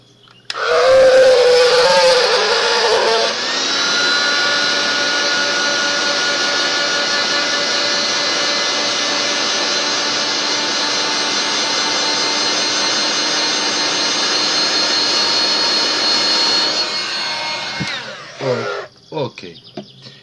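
A handheld power tool in use on an altered pin craft project runs with a steady high whine and hum for most of the stretch, loud and close, then stops, followed by a few clicks and knocks.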